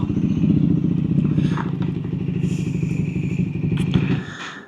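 Triumph Scrambler 400X motorcycle engine, a steady close rumbling putter with a low pulsing beat, with some wind noise, then fading at the end.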